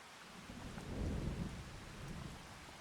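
Thunderstorm with a tornado in Farming Simulator 25: steady rain hissing on surfaces while a deep roll of thunder swells and fades, with no voices.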